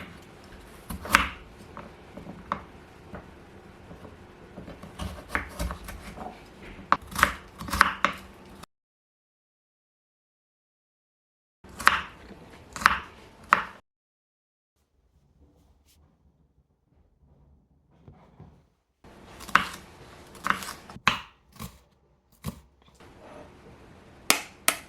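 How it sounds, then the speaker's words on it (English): A knife chopping carrot on a cutting board, sharp close taps in quick irregular runs separated by long silent gaps, with no talking. "I like to chop mine and keep any leftover chopped carrots in the freezer"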